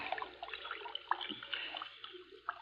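A body is shoved face down into a stream in an old radio drama, giving a soft wet splash and sloshing trickle that carries on quietly for a few seconds.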